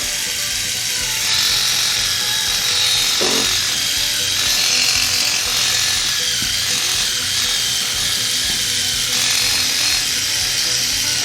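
A DSPIAE reciprocating sander running on low speed, sanding wood, with a constant loud buzzing vibration that holds steady throughout with no talking.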